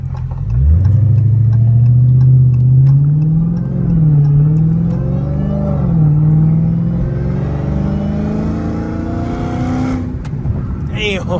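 An 820 hp Dodge Challenger Hellcat Redeye engine revs up loudly and pulls hard, its deep roar rising in pitch through repeated surges and shifts before easing into a steady drone, close and dominant.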